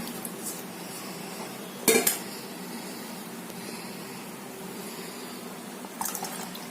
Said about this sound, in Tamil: இதே இதில் ஊற்றி நல்லா வடிகட்டிக்கிறேங்க